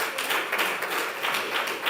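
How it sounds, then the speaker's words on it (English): Steady clapping from a crowd at a Safaricom half-year results announcement, a continuous wash of hand claps at moderate loudness throughout the short clip. "let's clap for her"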